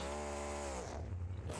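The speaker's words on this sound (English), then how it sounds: "Listen to how high the revs are getting." A truck's engine in the BeamNG.Drive driving game, in a stadium race, screams at high revs as a steady whining tone for under a second, then gives way to a rougher, noisy rumble.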